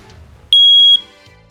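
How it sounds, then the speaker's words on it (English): A smoke detector above the main door of a Dutchmen Infinity 3810 RV gives one short, loud, piercing electronic beep when tested, standing alone against quiet room noise. "You got up top above the main door your smoke detector. So, go in and test that."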